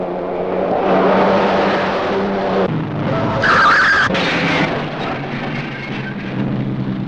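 A racing car skids and crashes on the Mont Futa pass: a loud engine roars alongside sustained tire squeal, with a sharp, high screech building midway before the car noise carries on.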